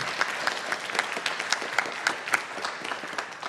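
A church congregation gathered for a conversation breaks into steady, brisk hand-clapping from many people at moderate distance. The applause holds an even, dense rhythm throughout without voices.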